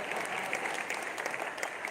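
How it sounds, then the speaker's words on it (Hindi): Audience at a Hindi comedy poetry gathering in a Jain community hall clapping steadily, a dense, even burst of applause from many hands. "बजाओ भाई जरा जोरदार तालियां"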